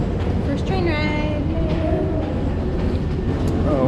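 A train rumbles nearby in Japan with a loud, steady low roar and metallic squeals, while people talk over it.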